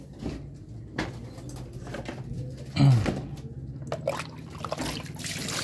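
Water is poured into a pigeon's drinker with a soft trickle beside the cooing of pigeons, and a louder splash or knock lands near the middle.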